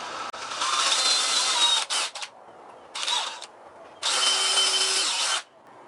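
Power drill boring a hole into a 2x4 board, nearby and loud, in three bursts: a long whine, a short pulse, then a final steady run, with brief pauses between them.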